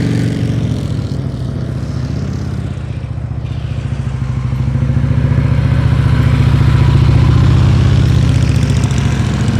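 A motorcycle engine idles and putters at low revs during slow speed riding practice, a loud steady rumble close by that swells slightly as the throttle is eased.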